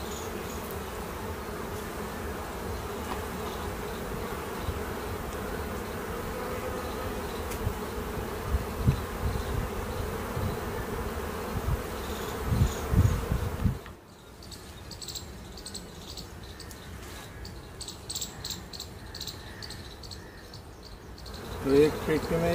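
Honey bees buzzing around beehive frames on a bee farm, a dense continuous drone of many insects close by, with handling noises and a brief drop in level partway through.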